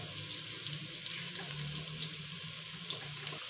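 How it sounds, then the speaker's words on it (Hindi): Onions frying in a pan with small and large cardamom, cinnamon and garam masala, giving a steady, even hiss and sizzle that sounds almost like running water, close and unbroken, with no voices. "इसको मैं ऐड कर दूँगी। उसे प्याज़ों के साथ हम लोगों ने फ्राई कर लेना।"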